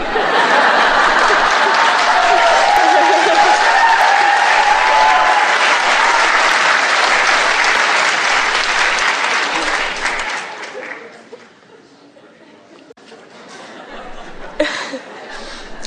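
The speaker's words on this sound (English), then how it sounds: "It feels good to hear the audience applaud." An audience applauds loudly and continuously for about ten seconds, a thick sustained wall of clapping with some laughter, before it fades to quieter murmuring and scattered sounds.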